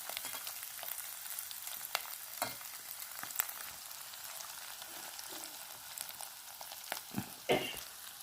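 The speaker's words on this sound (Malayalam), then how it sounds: "ഫിഷ് ഫ്രൈ ആണ് ഞാൻ ഉണ്ടാക്കിയിരിക്കുന്നത്" Chura fish frying in a pan gives a steady, close crackling sizzle with scattered sharp pops and spits, continuous throughout.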